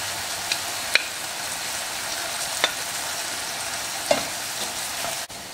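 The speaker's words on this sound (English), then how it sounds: "I'm gonna add 1 large onion finely chopped" Finely chopped onion, one large onion with coriander seed and red pepper flakes, sizzling steadily in a hot pan on medium-high heat, with a few sharp scrapes and clicks from stirring over the continuous frying hiss.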